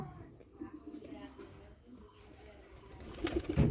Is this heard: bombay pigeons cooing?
yes